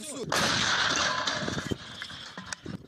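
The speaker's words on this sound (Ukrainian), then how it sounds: "На цьому відео терористи стріляють із протитанкової гармати" A heavy anti-tank gun fires with a loud blast and rumbling echo, followed by clanking mechanical sounds.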